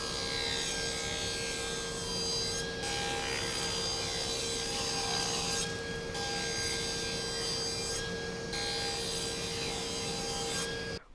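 A hand saw cuts through pine for a rustic picture frame in steady, close rasping strokes with a slight whine, running almost continuously with three brief breaks, no talk.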